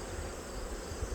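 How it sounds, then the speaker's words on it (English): Angry honey bees swarm around an open hive in autumn, giving a steady, close, unbroken hum that stays level throughout with no voices. "Fortunately, I made these bees pretty mad,"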